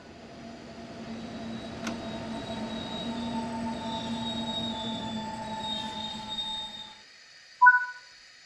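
Simulated train in a Train Sim 5 game rolling to a halt: steady rail rumble and rising wheel squeal with a brief click near the start, fading out before a short sharp brake hiss or tone at the end.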